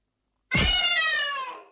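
A human voice imitates a cat's meow, a single drawn-out, nasal mew lasting just over a second, close and clear.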